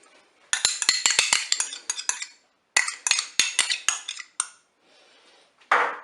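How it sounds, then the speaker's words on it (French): A spoon stirs crème fraîche into a Cookeo multicooker pot, tapping and scraping the metal bowl in quick clinking bursts with a short pause, then a softer scrape and a final clatter. "Je mélange."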